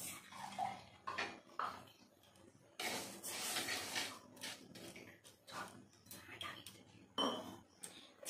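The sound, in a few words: stirring sugar in a kadai pan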